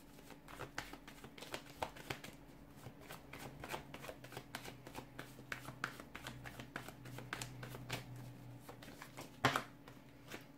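Tarot cards are shuffled by hand at close range, a long, fairly quiet stream of soft riffling flicks and slaps with no speech.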